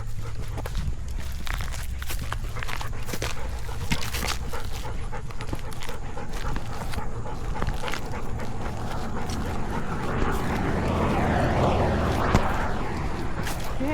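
A working line German Shepherd pants and whimpers close by on a relaxation walk, with shuffling footsteps and steady outdoor noise underneath throughout.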